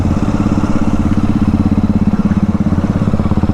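A motorcycle engine revs close by on a group ride through a ghat section, a loud steady throaty drone with rapid pulsing firing beats throughout.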